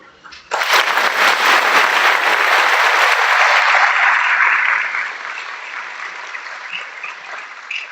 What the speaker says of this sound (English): Please join me in giving a hearty round of applause to Christy, Emily, and Adriana.